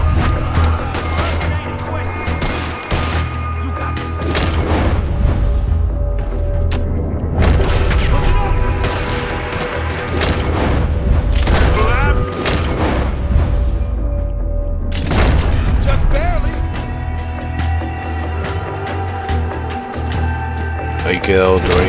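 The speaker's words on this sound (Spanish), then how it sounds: "Ametralladora, cuidado." In the video game Red Dead Redemption 2, machine gun fire crackles in dense bursts of loud shots and booms within a busy battle mix, and voices speak over it.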